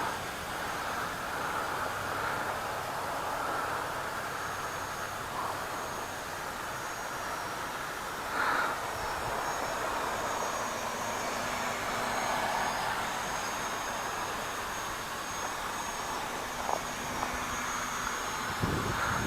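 A Hubsan X4 Desire H502S quadcopter drone flies outdoors into the wind, its motors making a steady, continuous whine and hum, fairly far off, with no talking.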